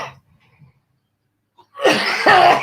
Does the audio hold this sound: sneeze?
yes